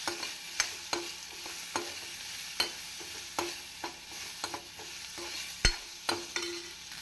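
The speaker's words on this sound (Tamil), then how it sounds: "தேங்காய் போட்டு நாம் ஒரு நிமிடம் வதக்கி விட்டால் போதுமானது." Grated coconut being sautéed in a pan, a soft steady sizzle broken by regular scraping stirs of a spoon roughly every half second, close and quiet, no voices.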